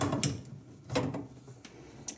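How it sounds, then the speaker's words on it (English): A small crescent wrench turning a faucet supply fitting under a single-lever basin faucet, giving a few close, quiet metallic clicks and scrapes spaced irregularly over roughly two seconds. "I'll just use a small crescent wrench here."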